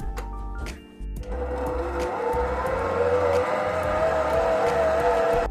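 An electric mixer whisks sweet yeast dough for curd-cheese buns after melted butter goes in: a steady, close motor whine with a grinding churn, starting after a brief pause and running on without talk.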